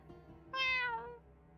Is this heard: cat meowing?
yes